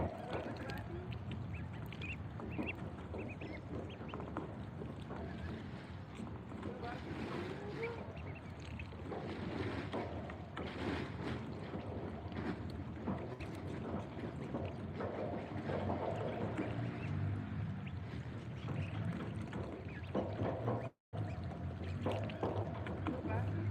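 Young and older domestic ducks eat and drink their dinner, dabbling and splashing in water with scattered quacks. The sound is continuous and fairly close throughout, with some talk in the background.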